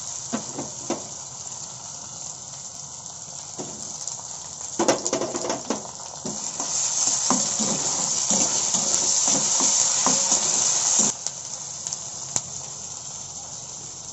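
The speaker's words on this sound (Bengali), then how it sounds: "পেঁয়াজ টমেটোটা খুব ভালোভাবে ভাজা হয়ে গেছে, এবার দিয়ে দেবো আদা রসুন বাটা।" Onion and tomato frying in a pan as ginger-garlic paste goes in, a steady close sizzle and hiss with scattered spoon scrapes and taps, the frying growing louder midway before easing.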